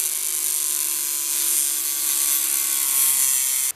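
A metal part from a 1910s pop gun is cut through, giving a steady, loud, rasping sawing sound that runs continuously for several seconds and stops abruptly at the end.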